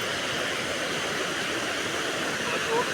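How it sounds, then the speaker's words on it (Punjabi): Floodwater rushes over a dam after heavy rain, a loud, unbroken roar of churning water heard close and steady throughout. "ਇਹ ਡੈਮ ਤੋਂ ਉੱਪਰ ਹੋ ਗਿਆ ਬਹੁਤ ਜ਼ਿਆਦਾ ਪਾਣੀ"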